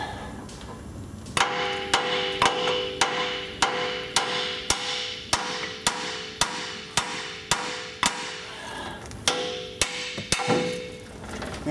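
Repeated hammer whacks strike a Ford F350 4WD truck's lower ball joint, about fifteen sharp metallic blows in a steady rhythm with ringing tones, close and loud, with a short pause before the last few hits.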